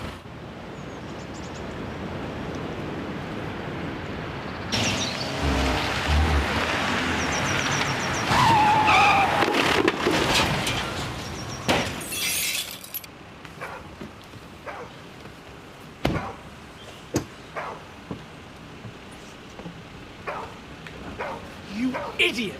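A car skids with a screech and crash during a driving lesson, followed by clattering debris and sporadic knocks, with a dog barking and people talking around it.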